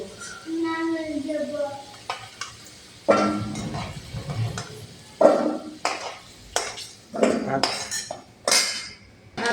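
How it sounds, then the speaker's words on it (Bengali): A metal spoon scrapes and clinks against a cooking pan as fried potatoes are lifted out, making a series of irregular knocks and rattles, with a voice briefly heard at the start. "আমার আলু ভাজা হয়ে গেছে বন্ধুরা নামিয়ে নিব"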